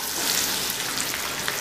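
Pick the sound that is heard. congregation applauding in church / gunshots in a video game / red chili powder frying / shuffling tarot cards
red chili powder frying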